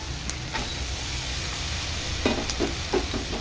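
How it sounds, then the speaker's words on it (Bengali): Onion frying in butter in a pan, a soft steady sizzle with a few stirring clatters near the end, no voices. "বাটার দিয়ে তারপরে পেঁয়াজটাকে ভেজে নিচ্ছি।"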